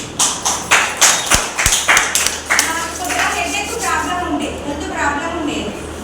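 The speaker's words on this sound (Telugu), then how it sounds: "మా సార్ క్లాప్స్ చేయండి" A short burst of clapping from a small group, quick uneven claps for about two seconds, then a person talks over a murmuring room.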